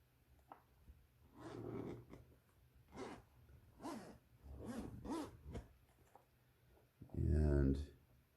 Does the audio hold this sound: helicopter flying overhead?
no